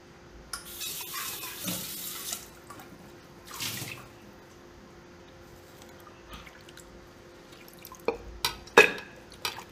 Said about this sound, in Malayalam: ഒരു ചെറിയ ഗ്ലാസ് വെള്ളം ഒഴിച്ച് കുക്കറിൽ വേവിച്ച് എടുക്കണം.